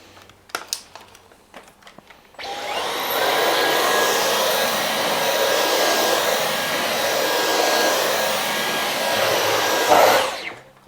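Ryobi 18V cordless vacuum with a mini motorized tool cleaning a floor mat, switching on after a few handling clicks into a steady, loud whirring hum that runs evenly for about eight seconds before shutting off.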